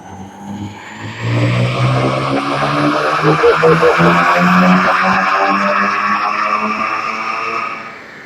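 Tuned Skoda Octavia vRS engine rising loudly on a dyno as revs climb steadily, a sustained roar with a harmonic whine for several seconds before easing off.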